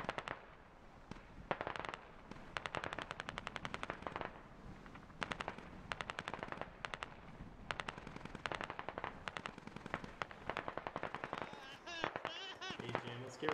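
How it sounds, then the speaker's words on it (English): Gunfire from Russian forces in a video game, long runs of rapid automatic bursts with short pauses between them, fairly distant and steady throughout. "Receiving some cover fire from their forces back across the town."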